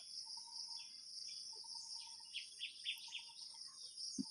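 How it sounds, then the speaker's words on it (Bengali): Crickets chirp in the evening in a steady high-pitched insect chorus, with faint scattered bird calls over a quiet outdoor background. "সন্ধ্যায় ঝিঝি পোকার ডাক"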